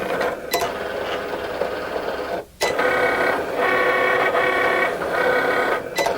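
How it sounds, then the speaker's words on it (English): A Cricut cutting machine with a fine point blade cuts a design into iron-on sheet, its motor whirring steadily with shifting pitch and brief pauses as the carriage changes direction. "So now let's head to our Cricut machine and cut our design."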